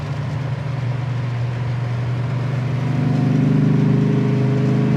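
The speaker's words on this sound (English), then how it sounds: "That exhaust sounds awesome." A 1969 Plymouth Road Runner 383 V8 drones steadily and builds as it accelerates past 70 mph, a continuous deep exhaust rumble rising in pitch as the four-barrel carburetor's secondaries open.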